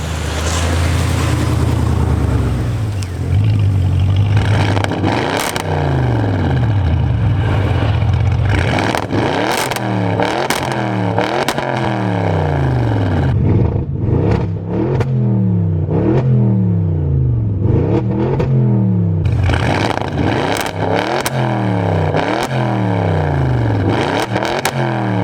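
An 800-horsepower 2014 Audi RS7 fitted with an Armytrix valved exhaust and race cat revs loudly and repeatedly, engine note sweeping up and down in sharp rising and falling pulls with crackles between, close and continuous with no talking.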